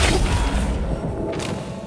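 A Flipendo spell strikes its target in the wizarding game Hogwarts Legacy with a heavy, booming thud. A dense rumbling tail carries on for nearly two seconds, and a brief hiss rises near the end.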